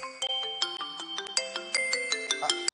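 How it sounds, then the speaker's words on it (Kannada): A mobile phone ringtone plays a bright, repeating electronic melody of sharp stacked tones, steady and close, with no talking over it. "ಆ ಕಾಲೇಜಿಂದ ಫೋನು"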